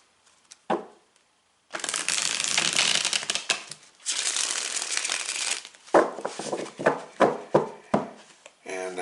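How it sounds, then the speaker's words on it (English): Tarot cards are shuffled in long riffling bursts of crisp papery rustle, two sustained runs followed by shorter snapping flicks as the deck is handled. "So we will shuffle the cards one more time."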